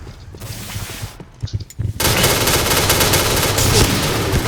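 Rapid automatic fire from an F-2000 rifle in the shooter game Point Blank, with scattered shots first and then a loud, continuous burst of gunfire that fills the rest of the clip.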